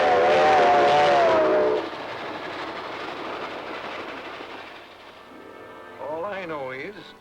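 Old 1940s steam-era passenger train rolling along the rails, a steady broad rumble with clattering texture, loud at first then settling lower, with brief dialogue-like voices and tonal sounds near the end.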